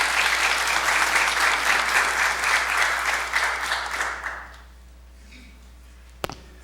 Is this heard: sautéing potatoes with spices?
no